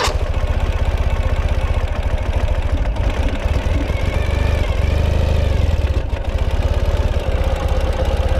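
A 2014 Ural sidecar motorcycle idles close by with a steady, loud, throbbing mid-pitched engine note and a brief dip partway through as it is shifted into reverse.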